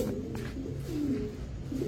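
Pigeons coo repeatedly in low, throaty rolling calls, close by, with a steady background murmur and no talking.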